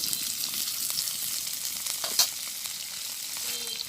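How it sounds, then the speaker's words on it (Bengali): Onion and chili hitting hot oil in a pan, a bright, steady frying hiss held at even level with a single small clink midway, close by and uninterrupted by voices. "তেল দিয়ে দিই দিয়ে দিচ্ছি পেঁয়াজ এবং মরিচ"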